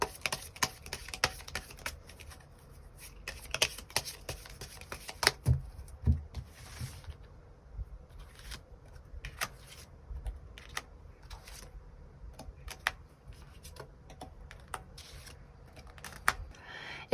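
Tarot cards are shuffled and drawn, quiet, close papery slaps and flicks in irregular bursts over a near-silent room.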